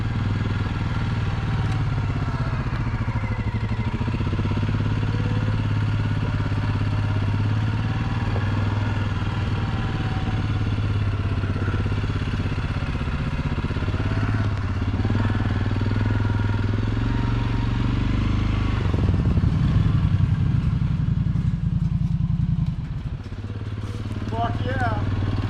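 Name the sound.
ATV engine while riding on trail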